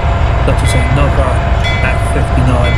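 A simulated commuter train pushed by an F59PHI locomotive rumbles past in Train Simulator 2019, a loud steady roar with rail clatter that fills the whole stretch, while someone talks over it.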